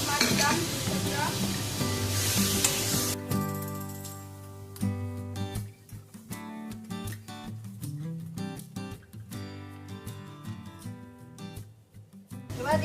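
Minced chicken frying in a pan with a spoonful of chilli powder gives a steady close sizzle, with stirring scrapes and clatter breaking in after a louder, hissing start.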